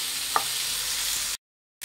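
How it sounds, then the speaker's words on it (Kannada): Tomatoes and tamarind frying in a pan for a chutney, a brief, even sizzle with one small clink, close by, followed by a short silence and the sizzle again. "ಇದೆಲ್ಲ ಸಾಫ್ಟ್ ಆಗೋವರೆಗೂ ಫ್ರೈ ಮಾಡಬೇಕಾಗತ್ತೆ"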